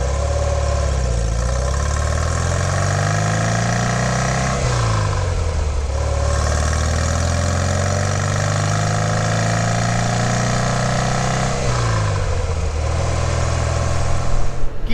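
Porsche 356 engine and exhaust droning steadily while driving, loud and close, with pitch rising and falling through gear changes and no talk over it.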